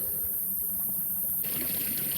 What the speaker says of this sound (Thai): เสียงน้ำไหลเจ้า